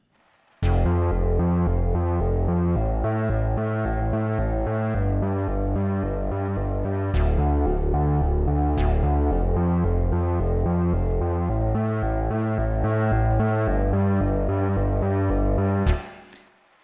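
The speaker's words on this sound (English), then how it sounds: "now this is a preset called Bathroom Bass." A bass synth line run through the Waves Retro Fi plugin's Bathroom Bass preset, a steady repeating pattern of loud low notes with a slightly colored, boxy tone, playing alone for about fifteen seconds.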